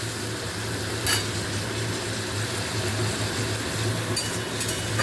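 A blended paste of garlic, ginger, whole spices, cumin and green chilli fries in a pan with a faint, even hiss over a low steady hum.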